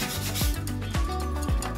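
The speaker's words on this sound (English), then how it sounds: "I hit it with a piece of sandpaper" Sandpaper rubbed briskly across a gold bar in quick back-and-forth strokes, about three rhythmic scraping passes close to the ear, with no talking.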